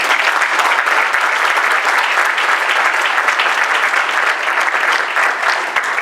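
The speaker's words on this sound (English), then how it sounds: "please give them a round of applause" Audience at a community event applauding, a dense steady clapping that holds loud and even throughout, close and without talk.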